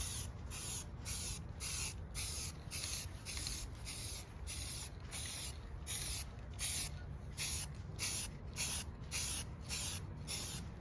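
Spray paint hissing onto wooden play kitchen parts, coating them green, in a steady run of short bursts repeated in quick rhythm, close and fairly loud throughout with no talking.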